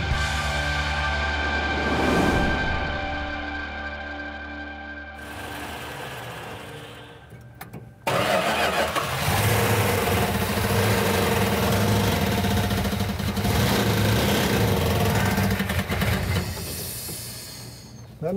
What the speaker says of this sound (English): When we initially fired it off, it was running on about six cylinders.